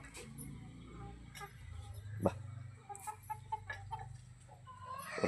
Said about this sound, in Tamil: கோழி கத்துது